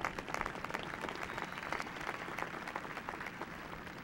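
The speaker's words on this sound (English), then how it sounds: "Let's give one more strong round of applause to our graduates in the Cal State Fullerton Doctorate in Education program." A crowd at the Cal State Fullerton university commencement ceremony gives a steady round of applause for doctorate in education graduates, dense clapping heard at moderate volume throughout.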